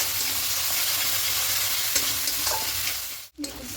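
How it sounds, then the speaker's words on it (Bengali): Spices with salt and turmeric fry in a pan while being stirred. A loud, steady sizzle holds throughout, with a few scraping strokes, then cuts off briefly near the end before starting again. "খুব ভালো করে একটু কষিয়ে নেব"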